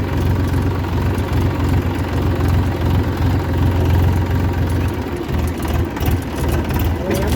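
Steady low rumble of a Massey Ferguson 525 DI tractor engine idling, running loud and even throughout with a slight unevenness near the end.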